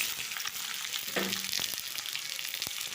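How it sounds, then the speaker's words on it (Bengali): Chopped onions frying in a pan for an easy chicken curry give a steady, close sizzle with stirring scrapes and crackles throughout. "এবার 1 বাটি পেঁয়াজ কুচিয়েছি, পেঁয়াজটা দিয়ে দেবো।"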